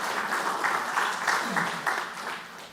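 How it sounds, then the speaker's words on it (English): An audience at a live panel event on music copyright claps steadily for a producer, a continuous patter of applause that stays fairly even throughout with a little voice mixed in. "Let's have a round of applause for Vipin."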